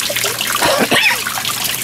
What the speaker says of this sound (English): I can hear the nice water cascading